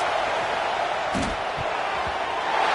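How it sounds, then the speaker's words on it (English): A stadium crowd roars in a steady, dense wash of noise during a Madden football video game, loud and continuous, with a couple of dull thumps mixed in and no clear talk. "Listen to this crowd just shaking the girders of this place trying to help their defense"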